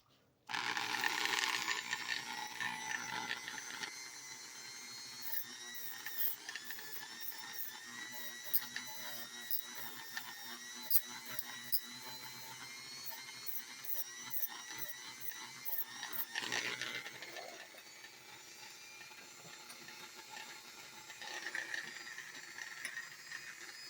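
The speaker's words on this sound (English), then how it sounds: "First thing we're going to do is turn this on. The small grinder, rotary tool kit." A small rotary tool grinder whirs steadily while restoring rusty, dull scissors, a high, thin motor whine with rattling, clicking contact sounds, fairly quiet with faint talk.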